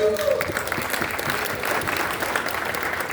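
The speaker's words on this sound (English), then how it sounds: "give yourselves a big round of applause" Audience applause for honorees at a Jewish Heritage Month celebration, a steady dense clapping wash sustained at moderate level across the whole stretch, with a faint voice at the start.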